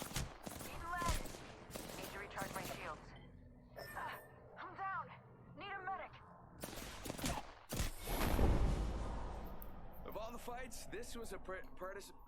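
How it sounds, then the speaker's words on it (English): Gunfire in the battle-royale game Apex Legends, bursts of shots cracking in and out beneath near-constant excited speech from several players, with a heavier loud volley mid-way. "I'm taking shots. Taking fire!"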